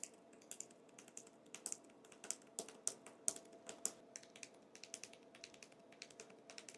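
Fingers type on the keyboard of a Xiaomi Pad 7 Pro tablet, producing a quick, irregular run of soft, light key clicks at close range in a quiet room.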